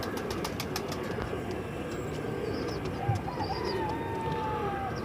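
Pigeons at the Multan pigeon market in Pakistan, soft cooing and a brief flutter of wings amid a busy market hubbub, with rapid clicks at the start.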